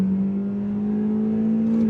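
A Honda Civic engine revs steadily in manual gear mode, holding one sustained humming, whirring pitch from up close with no speech.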